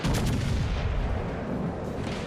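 A British Tier 6 battleship Nelson fires its main guns in World of Warships Legends, a loud heavy boom with a sharp crack up front and a long rolling decay, no talking.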